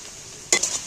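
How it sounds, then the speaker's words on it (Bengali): Spices stir-fried in a pan for a Bengali potol and masoor dal dish: a brief scraping clatter of a spatula against the pan, with a soft sizzle under it. "মশলাটাকে ভালো করে কষিয়ে নেব"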